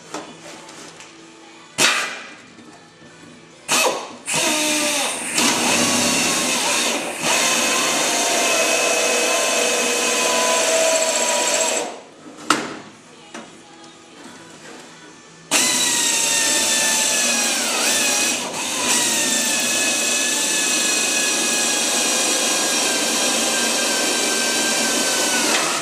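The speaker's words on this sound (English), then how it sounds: "Head came off there, and that's with a lot smaller drill bit." A drill bores out aircraft rivets, a smaller bit cutting through until each head comes off, giving loud, sustained whining runs broken by short pauses and sharp spikes.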